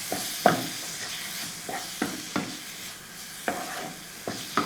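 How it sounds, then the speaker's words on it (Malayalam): Kashmiri chili powder is stirred in a pan with a spoon, with a soft sizzle underneath. Rhythmic scraping strokes repeat every half second or so, close and quiet, with no talk. "1 ടേബിൾ സ്പൂൺ കാശ്മീരി മുളക് പൊടിയാണ്, അത് ഇട്ട് കൊടുക്കുക. അതിന് ശേഷം നമുക്കൊന്ന് ഇളക്കി കൊടുക്കും."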